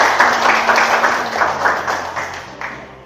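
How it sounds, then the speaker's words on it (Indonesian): A room of schoolchildren claps together in a morning class, a brisk burst of uneven hand claps that tapers off toward the end, fairly close. "Oke, tepuk tangan biar"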